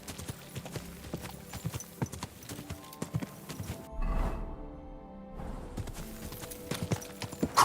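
Horse hooves galloping in Kingdom Come Deliverance II, a steady, close clip-clop rhythm running throughout, with a brief rushing swell midway and a snort or whinny near the end.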